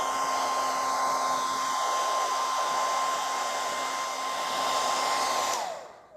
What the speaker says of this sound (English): we're gonna take our hair dryer, we're gonna turn it on high and watch the magic.